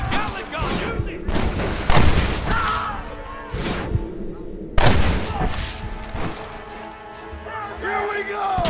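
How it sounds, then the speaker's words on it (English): Gatling gun firing in the Red Dead Redemption video game, loud repeated bursts of gunfire with booming impacts throughout, mixed with shouting voices and game sounds. "Gatling gun, use it!"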